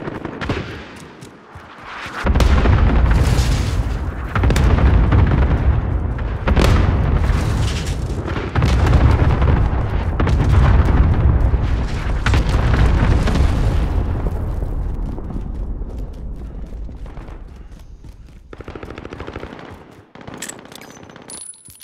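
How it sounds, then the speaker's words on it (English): Cluster strike explosions in Call of Duty Modern Warfare, a rapid barrage of loud, deep booms and blasts rolling over one another for most of the stretch, then fading into scattered distant impacts. "Enemy cluster strike incoming."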